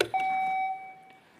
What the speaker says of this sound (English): go ahead and test out your buzzer, Vincent.